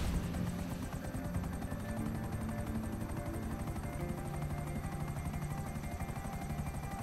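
A helicopter in the video game GTA Online flies continuously with a steady, loud rotor thrum and engine whine that holds its level throughout, with no talking.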